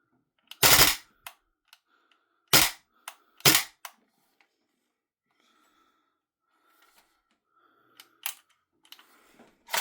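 A VFC FNC gas blowback airsoft rifle fires in short bursts: sharp, loud, snappy cracks in quick clusters, followed by softer clicks and handling noises in an otherwise quiet room.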